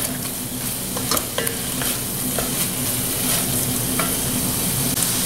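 Minced garlic sizzles steadily in a hot pan while being stirred, a close continuous frying hiss with occasional light utensil taps and scrapes, no talking.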